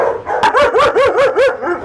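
German shepherd dogs bark loudly in a quick, steady run of about six yelping, slightly howling barks, close by and with no other sound.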